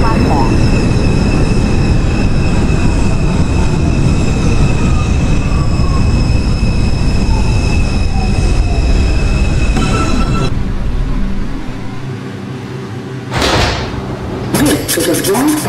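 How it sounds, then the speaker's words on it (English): R62 New York subway train on a Bronxbound 2 Express run in the OpenBVE simulator rumbles loudly along the track with wheel squeal and motor whine, then slows, quiets and ends with sliding door sounds. "This is a Bronxbound 2 Express train."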